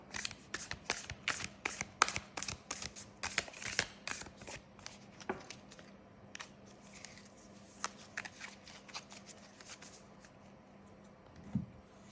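A deck of cards being shuffled repeatedly, crisp riffling bursts in quick succession, close and fairly quiet, with a few softer handling noises between.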